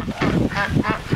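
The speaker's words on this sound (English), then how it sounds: "This is Chad, chasing the ducks." Ducks or geese honking repeatedly in harsh, overlapping calls while being chased through snow during a blizzard, loud and close, in a steady run of bursts.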